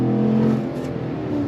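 A 2025 GMC Sierra Denali Ultimate pickup accelerates on throttle, its engine giving a steady, fairly loud droning hum with a slight rise and no talk over it.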